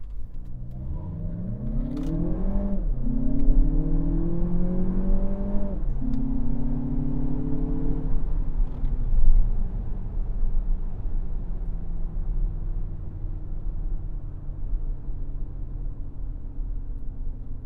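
A 2025 Lexus RX 500h F Sport pulls away from a complete stop, its engine rising in pitch through several gear steps over the first eight seconds, then settling into a steady road and tire rumble; no one speaks.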